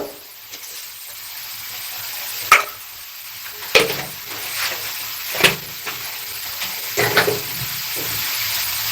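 Radish filling with ground black pepper being stirred in a frying pan for radish kachori, heard as a faint bed of frying sizzle with several sharp scraping and clacking strokes of a spoon against the pan, no talking.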